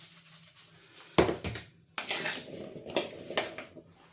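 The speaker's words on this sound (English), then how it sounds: "Spoon and just stir that in" A spoon clinks and scrapes against a bowl while stirring potatoes with olive oil and salt, a few distinct close taps followed by softer mixing sounds, no talk.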